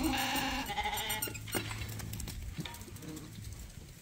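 Sheep bleating on a farm where lambs are being weighed, a few close, loud calls in the first seconds and then quieter bleats and pen sounds.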